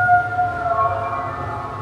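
A Halloween siren sound effect plays inside the Sea Life aquarium in Manchester, a steady wailing tone that sounds moderately close inside the building, with no voices over it.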